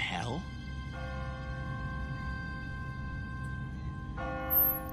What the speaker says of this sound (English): No one's ringing that bell. It's automatic, on a timer. What kind of church bell goes off at 20 past the hour?